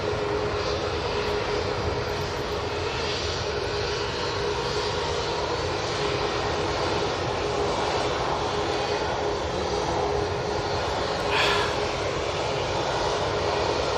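Airliner engines roar steadily at Manchester Airport as Ryanair and BA jets land and prepare for takeoff, a continuous loud drone with no break across the whole stretch.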